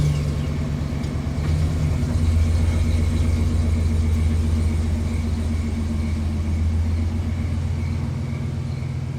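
A car engine gives a loud, steady low rumble from close by, holding constant throughout with a slight shift in pitch early on and no talking.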